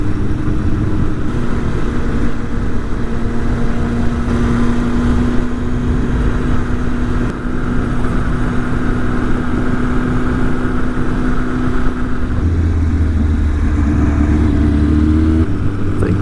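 Kawasaki ZX-10R sport motorcycles rolling along a road near Pugwash, a loud, steady engine drone mixed with heavy wind rush, the pitch holding even with a slight shift near the end, with no talk.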